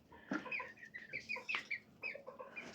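Soft clucking from a hen mixed with high, thin peeps of chicks, several quick calls scattered across a quiet background.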